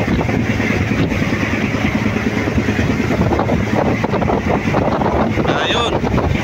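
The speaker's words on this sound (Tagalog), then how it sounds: "Yan, dinig nyo ang lakas ng hangin mga idol." Strong wind buffets a boat at sea, roaring steadily and loudly against the microphone with a constant rushing noise and no clear talking.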